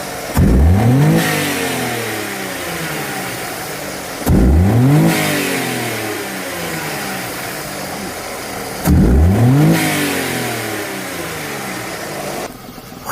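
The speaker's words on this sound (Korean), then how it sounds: "설치 후 동일하게 3번 연속 가속 페달을 밟아 엔진으로 공급되는 연료 압력을" A car engine revs hard three times in succession, each surge rising quickly then falling back toward idle, with a steady idle between bursts; a fuel pressure regulator is fitted to the engine.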